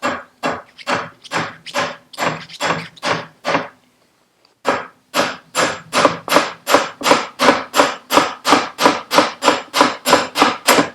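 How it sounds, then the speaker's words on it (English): Repeated sharp taps from a soft-faced hammer driving out the output shaft of a Vespa Smallframe scooter, in a steady rhythm, a brief pause, then a faster run of evenly spaced blows, close and fairly loud. "Soft face hammer"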